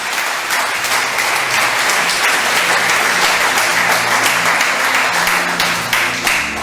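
Sustained loud applause from a large church congregation, steady clapping throughout with no break.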